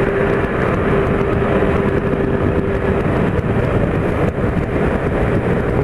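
A Honda Pop 110 motorcycle with a 30-tooth rear sprocket and 15-tooth front sprocket, running in while riding uphill, gives a steady close engine drone mixed with heavy wind rush, with no talking.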